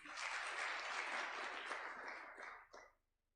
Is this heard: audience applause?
yes